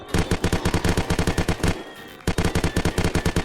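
Rapid automatic gunfire hits a boss in the Unturned video game, in two dense bursts of evenly spaced shots separated by a brief pause, loud and close.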